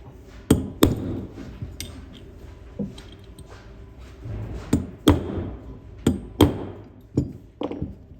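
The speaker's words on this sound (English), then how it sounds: "give it a couple more taps with the punch just to seat it deeper in the bolt" A punch tapping a firing pin deeper into an RCR 24 rifle bolt resting on a table, a series of sharp metallic taps at irregular intervals, close and clear with faint ringing between strikes.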